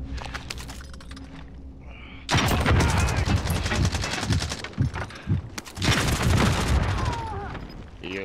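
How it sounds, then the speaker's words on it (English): Bursts of gunfire in a battle royale video game erupt loudly after a quieter start, with rapid volleys and a second barrage near the end, while players talk over the shooting. "Taking fire!"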